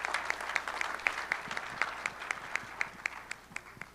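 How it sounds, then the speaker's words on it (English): A retiree gathering audience gives a quiet, thinning round of applause, soft scattered clapping with a few louder individual claps standing out in a loose rhythm that slowly fades. "give one more round of applause for all the people who came out to support today"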